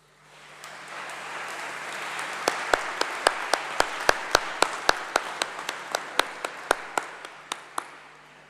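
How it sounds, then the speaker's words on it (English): Applause from a graduation ceremony audience at the University of Birmingham, a dense wash of clapping that swells in from silence and holds steady, with sharp individual claps standing out near the front. "Can I invite you to give a round of applause"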